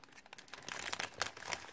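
A plastic bag crinkles and rustles in quick, uneven bursts as items are packed into it, soft and close by.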